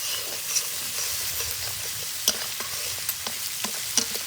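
Ground coriander, cumin, chili powder, turmeric and chopped green chilies fry in oil for a singara filling, giving a loud continuous hiss with a few sharp crackles and pops, close up and without talk.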